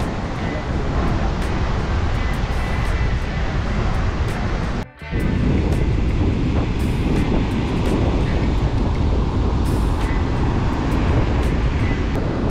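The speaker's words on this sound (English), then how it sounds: "Another windy day." Steady wind and crashing surf roar at a windy Florida beach, loud and continuous with gusts buffeting the microphone and one short drop-out midway.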